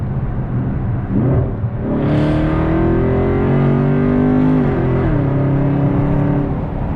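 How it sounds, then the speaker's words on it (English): A Dodge Charger or Challenger 392 V8 downshifts and accelerates for a roll race, its close, loud engine note rising in pitch through a sustained rev with a brief dip near the end. "hold the left pedal down and it'll downshift as far as possible"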